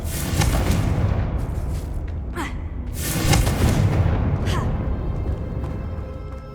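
Bombarda and Confringo spells detonating in the video game Hogwarts Legacy: several heavy, booming blasts in quick succession with rumbling tails, loud and close, over continuous low game ambience.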